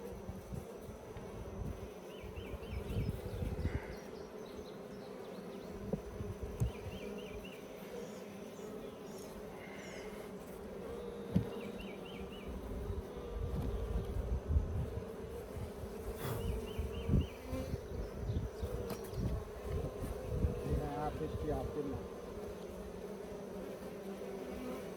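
Honey bees buzz steadily around an open Layens hive, a dense close swarm hum that holds through the whole stretch with small bumps and knocks of hive handling and no talk.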